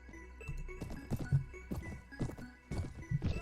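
Horse hooves gallop in the video game Mount and Blade, a quick rhythmic clip-clop close up with a brief whinny mixed in, loud and without talk.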